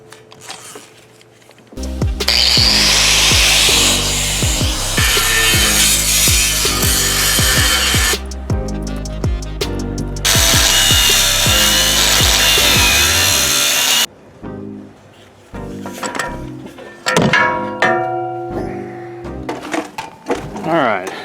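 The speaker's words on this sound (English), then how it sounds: "We're going to cut it off of this roof rack" A power saw cuts through a roof rack in long, loud bursts of grinding and rasping, stopping and restarting several times, with short pauses and clanks between cuts near the end.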